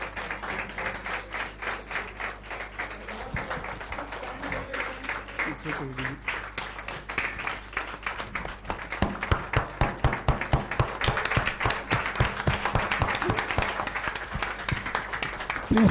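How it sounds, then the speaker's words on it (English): Audience applauding an honoree at a Bengaluru awards event, steady dense clapping throughout that grows louder and more rhythmic toward the end, with a voice speaking briefly over it partway through. "Please stand up again and give him great applause."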